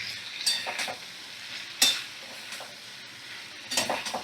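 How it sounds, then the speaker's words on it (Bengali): Sliced bottle gourd cooking in a pan over a high gas flame makes a soft, fairly quiet sizzle, broken by three or four scraping stirs and a sharper clink near the middle. "সেই লাউটা আমি দিয়ে দিলাম। হাই ফ্লেমে রেখে দিলাম গ্যাসের ফ্লেমটাকে। এবারে আমি ভালো করে নাড়াচাড়া করে নেব।"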